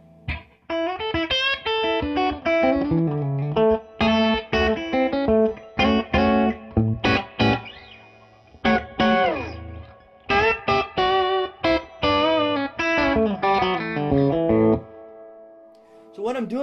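Guitar played in multiple and combined intervals through the clean channel of a Fryette Memphis 30 amp with reverb, a run of short chordal phrases with brief gaps and a ringing tail that fades at the end.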